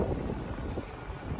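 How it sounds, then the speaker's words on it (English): Wind gusts along a street in Akihabara, Tokyo, a soft broadband rush buffeting the microphone, fairly faint and steady with no talking. "Ooh, windy, chotto windy."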